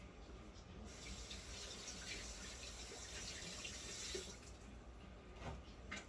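Tap water runs steadily into a sink while a peach is rinsed, a soft continuous splashing hiss with slight changes as the fruit meets the stream, fairly faint and close.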